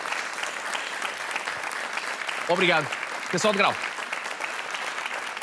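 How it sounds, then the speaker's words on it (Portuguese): Game-show studio audience applauds contestants Hugo and Diniz on Joker, a steady dense wash of clapping that holds throughout while a host briefly speaks over it. "Um aplauso para o Hugo e para o Diniz."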